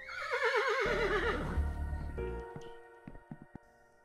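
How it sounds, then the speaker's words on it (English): A horse in the video game Yuppie Psycho gives a loud, wavering whinny, then snorts and clops as the sound fades into sparse sharp knocks. "Good horse, Dada."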